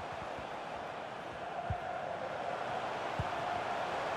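Stadium crowd noise from a FIFA 23 match between PSG and France, a steady dense roar of supporters throughout with a couple of brief thumps rising out of it.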